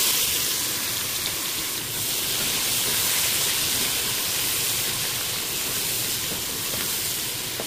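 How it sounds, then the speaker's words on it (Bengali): Three large sliced onions frying in hot oil, a steady broadband sizzle and hiss that stays loud and even throughout with no pauses. "পেঁয়াজটাকে ততক্ষণ ভাজতে হবে যতক্ষণ না পেঁয়াজটা ব্রাউন ব্রাউন হয়ে যায়"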